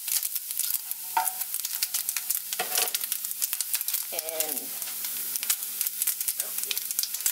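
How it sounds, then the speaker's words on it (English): Turkey bacon fries in a pan in an off-grid cabin, with a steady crackling sizzle, close up, and occasional stirring scrapes and light clinks over it. "Got some turkey bacon going on this morning."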